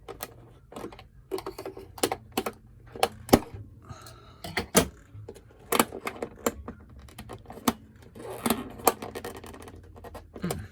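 Plastic cover being carefully pried and popped off an LED navigation light on a boat, a series of sharp clicks and snaps at irregular intervals, close and fairly loud over a quiet low hum, with no speech.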